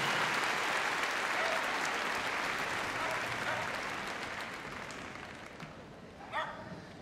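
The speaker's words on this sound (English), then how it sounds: "Give a big round of applause." Applause from the audience at the Crufts dog show after a heelwork-to-music freestyle routine, a steady, full crowd clapping that slowly tapers off, with a faint dog bark near the end.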